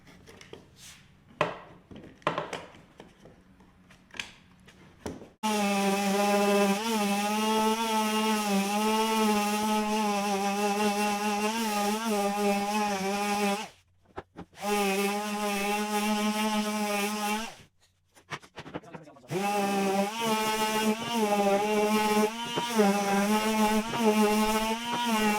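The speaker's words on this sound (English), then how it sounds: "I'll clamp them all together, then I'll sand them with a 60 grit sandpaper." Clamped wooden legs for a sofa or console table are sanded with 60-grit sandpaper. A steady, loud motor drone runs for long stretches, cutting out twice briefly, after some scattered knocks at the start.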